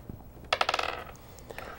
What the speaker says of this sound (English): Well, it's a lot of dice he just rolled. It sounded loud.